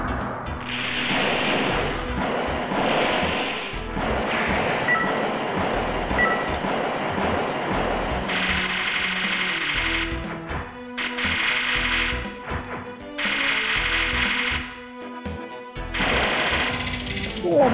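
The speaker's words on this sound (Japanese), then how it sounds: "ガンダムハンマーを食らった、結構レアなものを食らっちゃった" A Gundam Hammer strikes in the PlayStation game Mobile Suit Gundam: Char's Counterattack, heavy clanking metallic impacts and grinding mechanical effects repeating in bursts over constant loud game sound and music.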